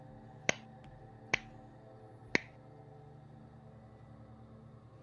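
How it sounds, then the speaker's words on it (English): Three sharp, isolated claps spaced slowly and unevenly over a few seconds, hesitant and close, each ringing briefly against a quiet, faintly humming background in an ASMR-style scene. "slow clapping, sort of hesitant at first"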